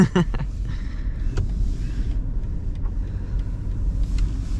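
A warmed-up BMW M5 Competition, tuned to around 800 hp, idles with a steady low rumble heard from inside the car, and a few brief clicks and knocks sit over the drone.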